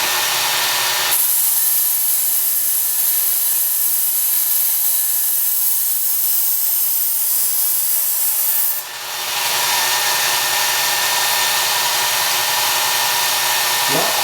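A Work Sharp Ken Onion belt sharpener grinding a knife blade, a close, steady whir and hiss that starts abruptly, holds for several seconds, briefly changes pitch and then carries on.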